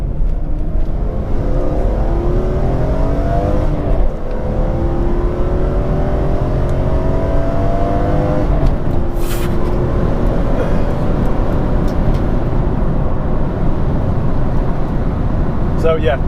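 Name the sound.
BMW E46 M3 engine accelerating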